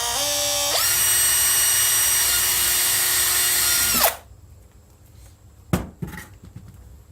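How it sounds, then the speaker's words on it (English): A power drill bores a hole for a magnet that holds a phone in the shower, running loud and close with a steady high whine for four seconds, then stopping, followed by a couple of sharp handling knocks. "So just drilled a hole there to hold my magnet."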